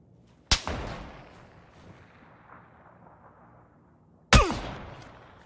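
Two sharp, loud gunshots ring out in the video game PUBG, several seconds apart, each with a long echoing tail fading across open ground.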